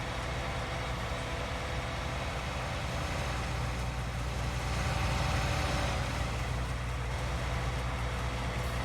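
Steady engine drone of a farm vehicle in Farming Simulator 19, idling and rumbling continuously with a faint pulsing as the brakes engage and release, no talk over it.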